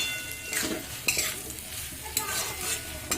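Fried potatoes and banana flower stirred in a pan over a medium gas flame, with a soft continuous sizzle broken by several scraping strokes of the spoon.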